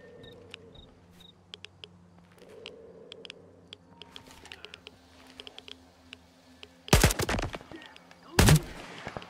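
Gunfire in the video game Stalker 2: two sharp, loud bursts of shots ring out near the end, following a stretch of quiet ambient game sound with scattered clicks.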